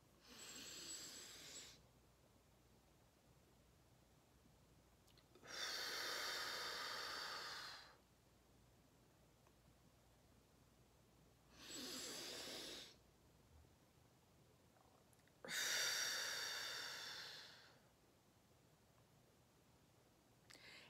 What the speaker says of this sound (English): Inhale, hold, exhale, hold.